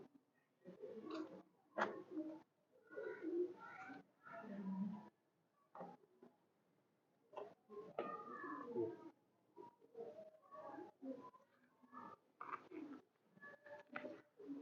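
A golden female pigeon from a racing loft coos in soft, repeated bursts separated by short silences, close and fairly faint, with no talk.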